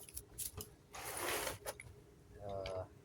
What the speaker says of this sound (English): let me get my ratchet